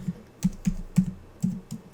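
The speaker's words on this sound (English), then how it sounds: "so we can start typing right away" Keyboard typing while entering port names during a Studio One and Stream Deck Plus setup: six or seven distinct, fairly close key taps at an irregular rhythm, with no voice over them.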